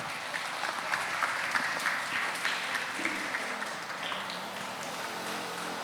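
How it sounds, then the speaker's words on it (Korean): At a Sewol ferry ninth-anniversary memorial ceremony in Ulsan, an audience gives dense, continuous applause, a steady wash of many hands clapping at moderate volume with no voices on top. "뜨거운 박수로 함께 만나보시죠."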